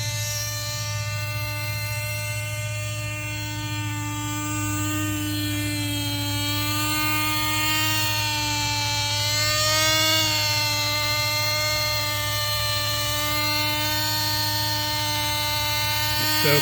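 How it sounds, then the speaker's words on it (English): A Lite Machines fixed-pitch RC helicopter in flight, its motor and rotor giving a loud, steady high whine that wavers and rises in pitch midway, continuous with no talk. "And this is a fixed pitch helicopter."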